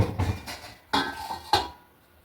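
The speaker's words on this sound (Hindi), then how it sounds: "पहले प्लेट लेती हूँ, फिर सारे बर्तन भी सारे मुझे रखने हैं" Plates and kitchen utensils clatter in a home kitchen: three sharp ceramic and metal clinks spaced about half a second apart, close and fairly loud, each ringing briefly, with no talk.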